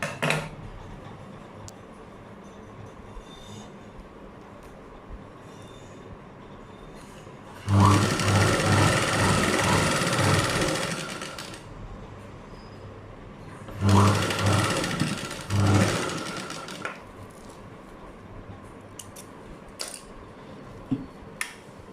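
Sewing machine stitching a blouse in two steady whirring runs of about four and two seconds, separated by quiet pauses with faint clicks and handling noise.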